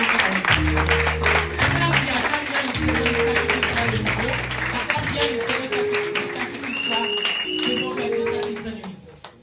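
A church congregation claps and cheers together in a dense, sustained burst of applause, with a voice calling out over it and musical tones ringing through the noise.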